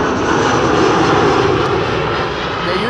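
A fixed-wing airliner arriving at Amsterdam Schiphol Airport roars loud and steady overhead, a broad continuous engine rumble with no talk.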